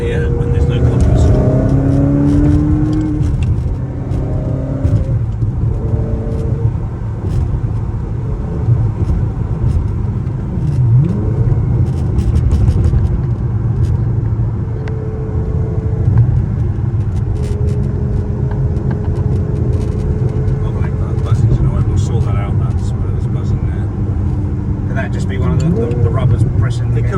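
A manual Ferrari 360 Spider engine on a test drive growls and revs through gear changes, loud and close from inside the car, with rising and falling tones and speech over the top.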